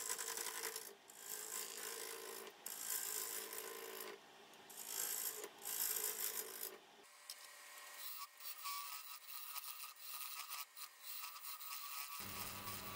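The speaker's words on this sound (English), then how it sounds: "I'm using the skew chisel here and trying to flatten out what will be the tenon." Wood lathe turning a resin-filled workpiece held between centers with the tailstock up, a skew chisel flattening the tenon; steady raspy scraping with rhythmic cutting passes, shifting in tone partway through, with no speech.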